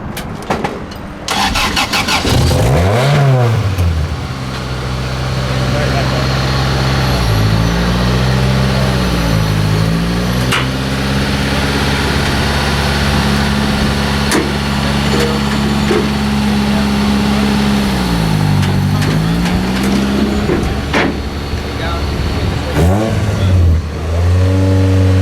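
Speedway race cars at Goulburn speedway, such as Junior Sedans, Legend Cars and Grand Prix Midgets, start up and rev loudly and nearby, their engines swelling in repeated rising and falling surges over a steady idle.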